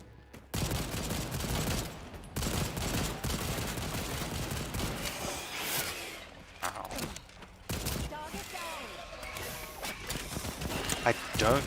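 A full magazine empties in a first-person game with raptors, sustained loud rapid gunfire in dense bursts across most of the stretch, broken by brief gaps, while people talk over it.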